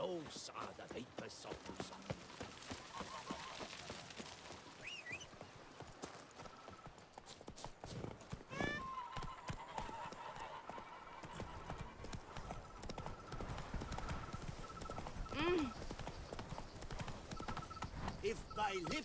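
Hooves of Roach, the horse in The Witcher 3, clop steadily through much of the stretch with a brief whinny, mixed under game music and talking.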